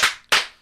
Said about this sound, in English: That's 2 claps and a Ric Flair